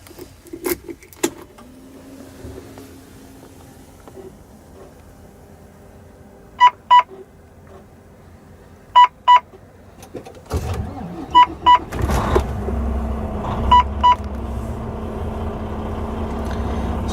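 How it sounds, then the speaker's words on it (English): A 2009 Volvo 630 truck with a D16 diesel engine: cab chimes and beeps and a few clicks, then the engine cranks and catches around midway, settling into a steady, fairly loud idle rumble with repeated double-tone chimes. "All right, let's start up the truck."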